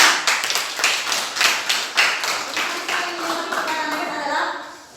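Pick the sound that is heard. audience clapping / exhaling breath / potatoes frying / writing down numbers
audience clapping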